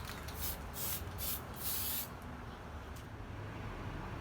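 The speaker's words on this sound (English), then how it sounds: "Giving this polished, glossy clear coat will contrast well with the beat-up nature of this piece." Glossy clear coat is sprayed in four short aerosol hisses onto forged steel tongs made from found steel. The bursts are quiet and close, and faint background hiss remains after them.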